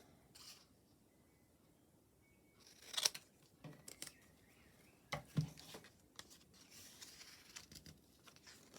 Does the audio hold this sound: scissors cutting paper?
yes